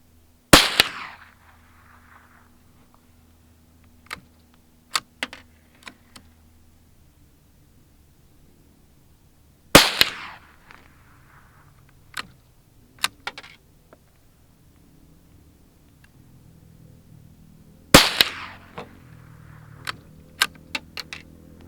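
Three sharp, loud cracks from a Savage Mark II .22 rifle firing Velocitor ammunition, spaced roughly eight seconds apart. Smaller clicks and clatter from cycling the bolt fall between the shots, with no talking.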